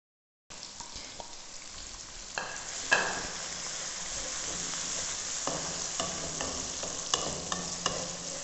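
Sliced onion added to hot oil with already cooked garlic for a mixed vegetable curry, sizzling steadily and close, with intermittent spatula scrapes and clacks against the pan, no talking.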